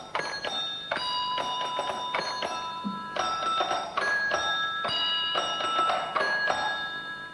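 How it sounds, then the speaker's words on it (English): A gong at Hammerwood Park, thought to be a dinner gong, struck repeatedly in an irregular rhythm, each stroke leaving bright ringing metallic tones that overlap and sustain, close and fairly loud with no talking. "Some people think this thing's a sort of dinner gong or something"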